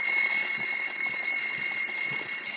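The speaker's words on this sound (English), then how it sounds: "It is 6 o'clock and the alarm starts ringing." An alarm clock rings at six in the morning, a steady, shrill, continuous electronic ringing that holds at the same pitch for over two seconds, close and alone, then cuts off abruptly.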